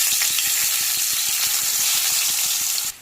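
Fish curry base frying in hot oil with nigella seeds and onion in a pan, a loud steady sizzle with regular stirring taps throughout, stopping abruptly at the end.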